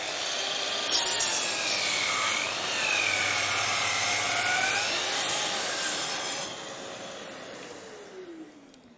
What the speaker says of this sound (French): Et maintenant, je fais la coupe.